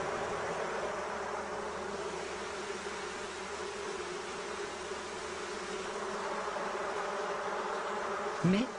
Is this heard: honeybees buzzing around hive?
yes